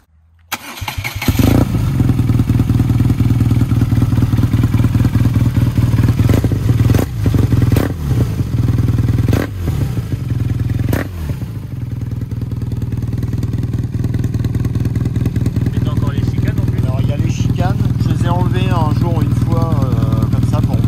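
A BMW R nineT Racer motorcycle with its 1200 boxer engine cranks and starts, then settles into a loud, steady, throbbing idle close by, with people talking over it.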